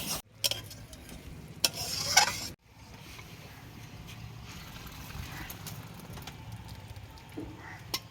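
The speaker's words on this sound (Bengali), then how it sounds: "এবার ভালো করে ফুটে গেছে, নামিয়ে নেব নেড়ে ছেড়ে" Kodbel chutney boiling in a pan while being stirred, soft bubbling and scraping with a few louder spoon knocks near the start, then a low steady simmer, faint and close.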